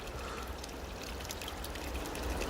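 Mission Creek stream babbles steadily, a continuous close wash of flowing water with no voices.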